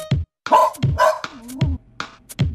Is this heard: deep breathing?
no